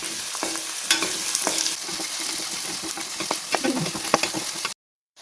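Chopped cauliflower being sautéed in a pan for a vegetarian pickle, a close, steady sizzle broken by clicks and scrapes of stirring, which stops abruptly near the end.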